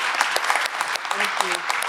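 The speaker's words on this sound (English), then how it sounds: "Will you give a round of applause to our city manager?" Full applause from a crowd at a city district engagement meeting, honoring the city manager, holds a dense, level clatter throughout, with brief voices mixed into the clapping.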